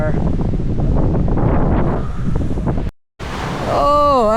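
A breezy wind by the sea in the Philippines buffets the microphone with loud rumbling gusts over surf, cuts out briefly, then returns with a voice and a rising whistling tone.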